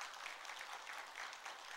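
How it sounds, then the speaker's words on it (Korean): Church congregation applauding during a Sunday worship service, a steady, dense wash of many hands clapping without pause, fairly faint and distant throughout. "박수로 격려하십시다"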